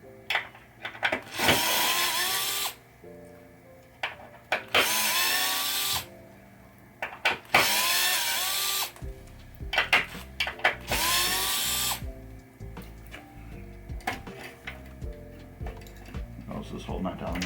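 Power drill backing screws out of a 1985 Williams Sorcerer pinball playfield, with repeated bursts of loud whirring lasting a second or two each, separated by clicks and handling knocks.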